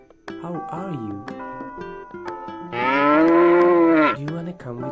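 A Jersey cow on a farm lets out one long, loud moo in the middle of the clip, with cartoon voices and music before and after it.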